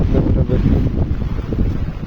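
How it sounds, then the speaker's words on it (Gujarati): A steady, loud roar of wind buffets the microphone during a rainstorm, a continuous low rumble with no voices. "પવન સાથે છે."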